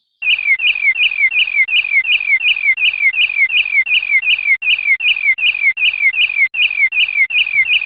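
A rapid, unbroken series of bright chirps repeats evenly, loud and close, like a small bird calling over and over.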